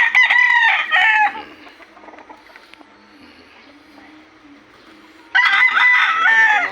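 A backyard rooster crows loudly and close, one long crow at the start and another near the end, with quiet rustling and faint clucks in the pause between.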